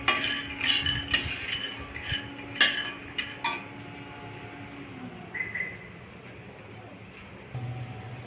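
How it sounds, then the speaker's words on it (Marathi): A spoon stirs peanuts roasting dry in a pan, with scattered metallic scrapes and clinks in uneven bursts, close up, fading to quieter scraping in the second half. "आता शेंगदाणे छान भाजून घेणे।"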